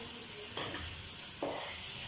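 Chicken fried rice is stirred in a hot pan over a high flame, with two brief scraping tosses against a quiet, steady sizzle and no one speaking.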